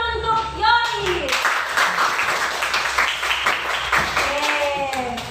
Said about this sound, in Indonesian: sini tepuk tangan untuk Yoris